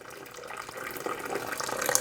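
Hot water runs steadily from a kitchen tap, splashing continuously and growing slightly louder over two seconds, close by with no voices.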